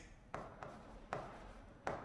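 Pen strokes on paper while an equation is written out, four short scratchy bursts spaced irregularly over a quiet background, faint and close.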